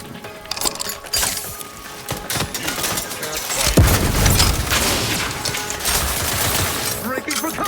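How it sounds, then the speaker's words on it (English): Explosions and bursts of gunfire in an Xbox video game, a heavy boom swelling midway through a dense, continuous battle din, with a voice speaking over the action. "Explosion!"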